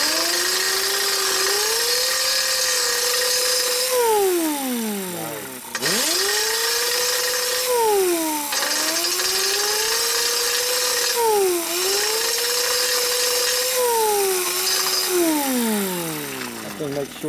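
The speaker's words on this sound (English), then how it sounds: "See, I have really good control of what I'm grinding with this grinder." An angle grinder grinds welds on a 2008 Buell Blast motorcycle being converted into a trials bike. Its loud, close whine dips and climbs repeatedly as the disc bites under load, running continuously throughout.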